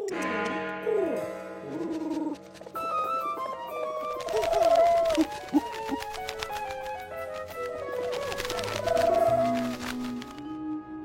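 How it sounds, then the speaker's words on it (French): Cooing of a lost, disoriented homing pigeon in a children's cartoon, soft warbling coos set within a busy animated music score, with no speech. "on dirait Boussole, le pigeon voyageur désorienté"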